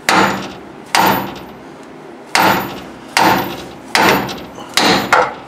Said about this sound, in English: one reason we decided to use the hammer on these tie rod ends